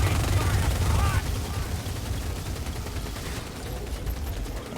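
Gatling gun fire from enemy gunners in a Team Fortress 2 mod match, rapid continuous bursts that are loud at first, then drop to a quieter, more distant rattle with game noise underneath.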